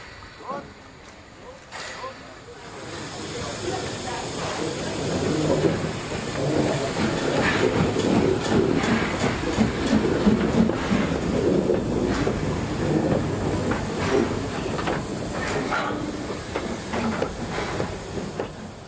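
A Brocken narrow-gauge steam train in the Harz mountains rolls past, its sound building from quiet into a sustained rumble with chuffing and rail clatter, then easing slightly, with a voice speaking over it.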